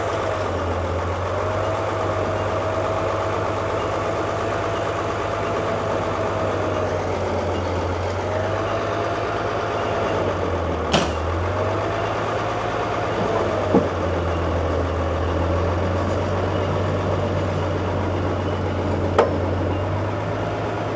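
A 1940s Allis Chalmers HD14 bulldozer engine idles steadily, a low rumbling drone with a faint slow wavering in pitch and a few sharp clicks nearby.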